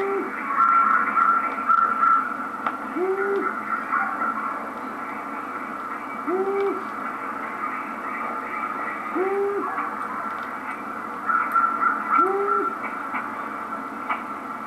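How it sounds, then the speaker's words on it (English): A long-eared owl calls with low, evenly spaced hoots about every three seconds, repeated steadily over a constant hiss of background noise with no voices. "Long-eared owl."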